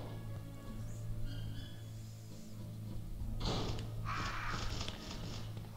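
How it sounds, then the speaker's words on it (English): Crows cawing in the Resident Evil game during Leon's playthrough, a few harsh, raspy caws in short bursts, the last two louder and closer, over a steady low ambient hum with no talking. "Oh, you crows."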